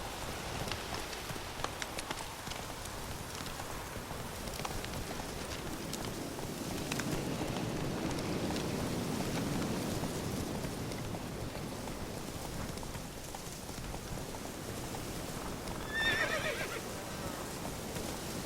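Geralt's horse Roach from The Witcher 3, neighing with a whinny near the end over steady clip-clopping hooves and light rain ambience, with no talk.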